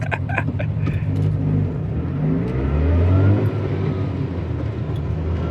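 An old left-hand-drive Subaru 360 kei car with a two-stroke engine buzzes along under way. The engine note is heard from close by and swells into a rising rev partway through, then settles.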